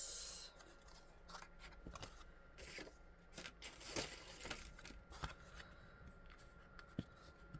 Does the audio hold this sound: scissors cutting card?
yes